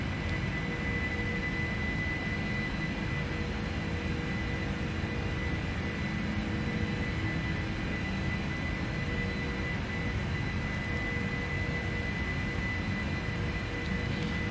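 Steady, loud jet engine roar of a PMDG 747-400 at climb power in a flight simulator, a continuous broadband rumble with a faint tonal whine held evenly throughout, no talk over it.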